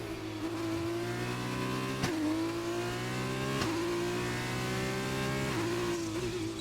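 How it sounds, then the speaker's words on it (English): An F2 race car engine in a racing video game revs high and steady, its pitch dropping sharply at several upshifts spaced a second or two apart, loud and continuous. "I really like the sound when the engine makes when you shift up here"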